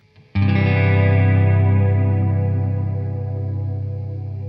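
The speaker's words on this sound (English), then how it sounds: "That enhanced clean sound works really well with a big modulated reverb" A single strummed clean electric guitar chord through a Fender '68 Deluxe Reverb reissue amp rings out with lush, shimmering modulated reverb, sustaining and slowly fading.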